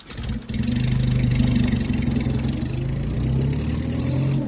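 A car pulls away with its engine revving hard and accelerating, loud and close, a steady mid-pitched roar building after a brief start, with no voices.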